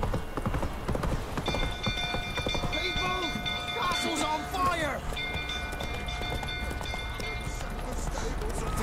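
Galloping horse hooves in The Witcher 3, a fast steady clatter throughout, with a voice shouting over it and a few other sounds in the background.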